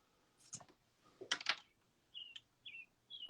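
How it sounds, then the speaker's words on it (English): Birds chirp in a few short, high bursts, brief and somewhat faint, mixed with scattered clicks and soft knocking nearby. "Birds are chirping."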